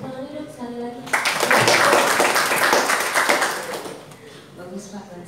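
A seminar audience in Adiwerna, Tegal breaks into a burst of applause lasting about three seconds before it fades out, with voices speaking on either side of it.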